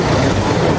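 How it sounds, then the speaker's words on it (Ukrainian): Tram passing by on a city street, a loud, close, steady rumbling roar with a dense low-frequency drone throughout the brief moment. "Мы с вами стоим, а здесь трамвай."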